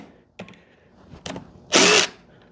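Power tool spinning off 13 mm caps from the PCV valley of an engine being prepped for rebuild: a couple of brief whirs and clicks, then one loud burst of drilling near the end.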